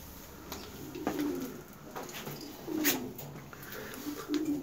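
Racing homing pigeons coo softly in a loft, with several low, rolling calls spread across the clip amid faint ambient noise and no talk.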